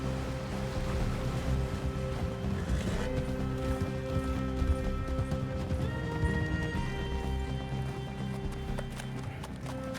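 Horses in the Western video game Red Dead Redemption 2, their hooves clip-clopping in a steady running rhythm over a continuous bed of game music and ambience, with no talk over it.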